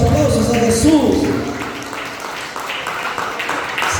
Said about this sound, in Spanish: Vamos a dar un fuerte aplauso al Señor, por favor.